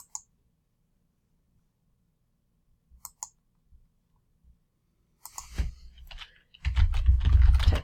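Typing on a computer keyboard: a few isolated key clicks early on, then a denser burst of tapping and clicking toward the end, close and fairly quiet with no talk.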